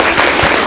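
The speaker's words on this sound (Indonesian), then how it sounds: "tepuk tangan untuk K1" Classroom applause for a student group, a steady wash of many hands clapping together through the whole short burst.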